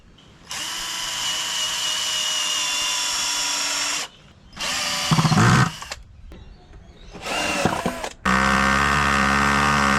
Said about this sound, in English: Or maybe I just screw it on the top.